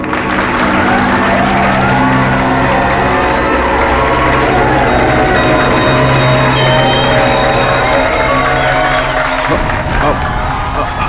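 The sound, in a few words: audience applause and cheering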